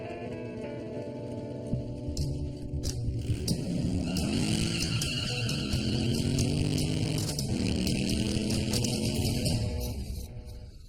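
A motorcycle engine roars steadily as the bike slides beneath a trailer, with rising and falling revs and scraping, continuous and loud throughout.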